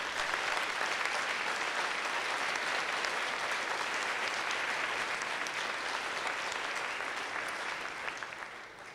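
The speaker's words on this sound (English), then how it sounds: "please join me in a round of applause now for all of our supporters" An audience at an evening event applauds its supporters, steady dense clapping throughout that tapers off slightly near the close.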